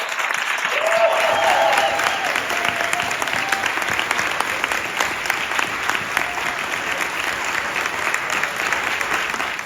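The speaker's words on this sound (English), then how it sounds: "Let's give him and his leadership a round of applause." An audience claps warmly in a dense, sustained round of applause at a middle school grand opening, a crowd of hands ringing out steadily without letting up.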